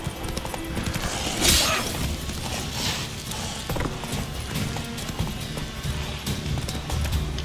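Horse hooves clip-clop in a steady, busy rhythm in The Witcher 3 video game, joined by a brief burst of louder noise and faint mechanical clatter throughout.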